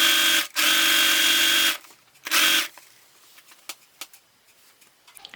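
A sewing machine runs in two bursts, one long and one short, with a loud, steady motor whir while fabric is stitched, followed by quiet handling and light tapping sounds.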